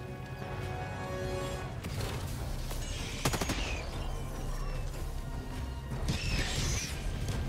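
Bursts of rapid gunfire and booming explosions in Helldivers 2, including Las-16 Sickle and Punisher Plasma weapons, over a dense, rumbling battle din, with two louder blasts standing out.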